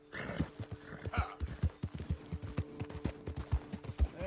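A horse gallops in Red Dead Redemption 2, its hoofbeats thudding in a quick, steady rhythm close by, with a brief snort or whinny near the start and no one talking.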